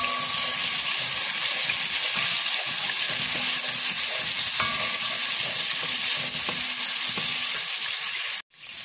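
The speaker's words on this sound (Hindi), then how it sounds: "हम इसमें 1 टेबल स्पून अदरक लहसुन डालेंगे।" Ginger-garlic paste fries in a pot with a steady, dense sizzle throughout. A few faint clinks come from stirring, and the sizzle cuts off abruptly near the end.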